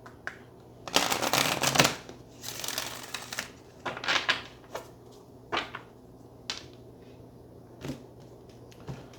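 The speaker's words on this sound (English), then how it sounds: "let's go ahead and get one more good shuffle." Tarot cards being shuffled by hand, with several bursts of riffling and shuffling that come in irregular clusters, the longest near the start, followed by shorter shuffles and soft taps, close and clear with no speech.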